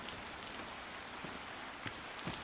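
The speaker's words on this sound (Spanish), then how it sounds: "No puedo con esta lluvia." Rain falls steadily in the DayZ survival game during a nighttime storm in Gliniska, a dense, even hiss of drops with a few louder patters on a surface. No one speaks over it.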